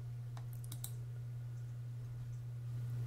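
Computer mouse clicks in quick succession, a sharp double click and a few lighter taps, faint over a steady electrical hum with no talking.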